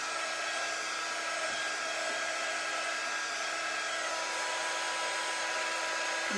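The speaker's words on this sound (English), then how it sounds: "the next step I like to do is to heat that wax up into the wood" A heat tool blows a constant, even, loud rush of hot air while warming wax into wood, with no pauses throughout.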